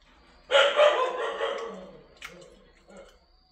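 A dog barks in a quick burst of several loud, close yaps, followed by a couple of fainter, shorter barks.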